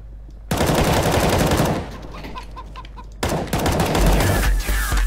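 Loud bursts of automatic gunfire in the Counter-Strike: Global Offensive video game, rapid rattling shots that break off briefly and then resume at close range, with no talking.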